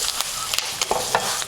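Mashed boiled potato is stirred into a hot pan with turmeric, giving a soft steady sizzle broken by light scraping clicks of the spoon against the pan.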